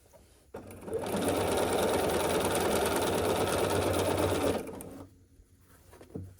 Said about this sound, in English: we're gonna sew down this seam